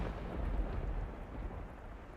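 Low rumbling thunder from The House in Fata Morgana game, with a steady dense roll at close range, filling the whole stretch with no voices.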